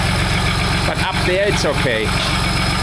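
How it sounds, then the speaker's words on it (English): A Land Rover V8 engine idling with a noisy bottom end, a steady low rumble with a rhythmic knock running throughout, close and loud, while people talk over it. "So the engine is noisy on the bottom end"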